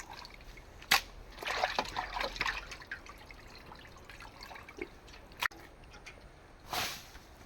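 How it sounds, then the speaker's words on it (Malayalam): Rib meat being washed by hand in a bowl of water, soft splashes and drips with a few sharp knocks and clinks scattered through, fairly quiet and close. "വാരിയല്ലേ ഇറച്ചി കഴുകുന്നതല്ലേ, നല്ലോണം 3-4 വെള്ളത്തിൽ കഴുകണം"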